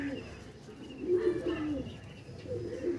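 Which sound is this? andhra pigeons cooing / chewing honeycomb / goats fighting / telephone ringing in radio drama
andhra pigeons cooing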